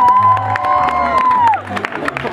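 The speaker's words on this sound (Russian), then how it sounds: "Аплодисменты Федоренко Алене!" An indoor audience at a holiday-camp beauty contest cheers and claps for a contestant, a loud, close crowd noise with shouts and whoops, while a whistle-like tone rises and falls over it.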